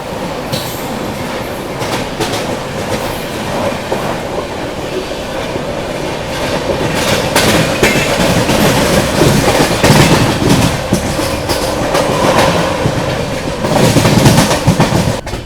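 Rajdhani Express running on the rails toward Agra Cantt, a loud continuous rumble with clickety-clack of wheels over joints, growing louder toward the end, with no voices.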